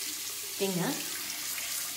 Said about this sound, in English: So now I'm just going to wash off my face